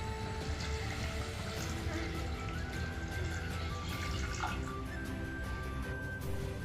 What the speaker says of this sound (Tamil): இப்போ நம்ம இது கூடவே தண்ணி சேர்த்துடலாம்.